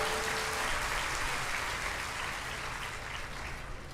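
An audience at a Hindi religious discourse by Devkinandan Thakur applauds steadily. The dense clapping holds for several seconds and then thins slightly toward the end.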